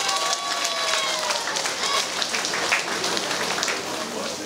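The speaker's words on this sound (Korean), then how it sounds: "그분 박수 주십시오." Crowd applause at an outdoor ceremony of the 2019 Sinan island pomfret festival, a steady wash of many hands clapping throughout, with a faint whistle-like tone early on.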